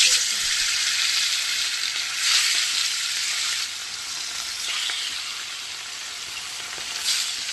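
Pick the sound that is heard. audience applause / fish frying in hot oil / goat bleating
fish frying in hot oil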